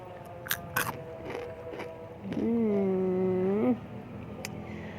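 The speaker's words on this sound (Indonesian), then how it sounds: "Kedengeran kan suaranya, crispy-nya." Someone bites into crispy fried spring rolls filled with small dried shrimp (sumpia udang rebon) wrapped in lumpia skins, making a few sharp close crunches. A brief tonal whine is heard in the middle.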